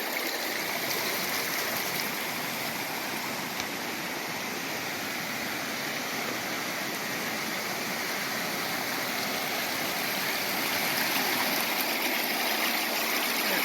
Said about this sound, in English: I've reached the crossing of Denny Creek